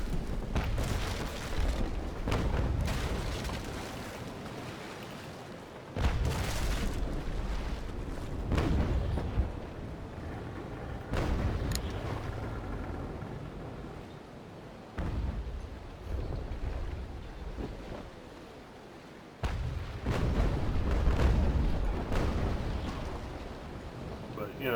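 Long cannons on sailing warships in the naval combat game Naval Action fire in a series of deep, rumbling booms about every few seconds across the whole stretch, with someone talking over them.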